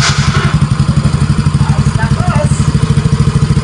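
A Yamaha Mio Soul i 125 scooter engine idles close by in a fast, even putter with a slight mechanical clatter, running steadily after repair work on its idle.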